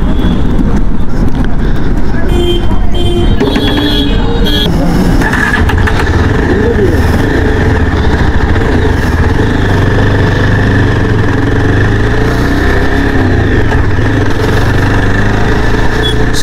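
A Yezdi Adventure motorcycle engine catches early on, then settles into a loud, steady close-up idle that thrums evenly to the end.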